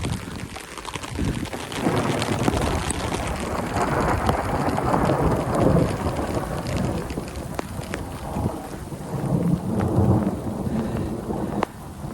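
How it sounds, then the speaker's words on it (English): Steady heavy rain and rolling thunder fill the air outdoors with continuous loud wash and low rumbles, plus occasional wind gusts and sharper cracks throughout. "So when we get thunder and lightning,"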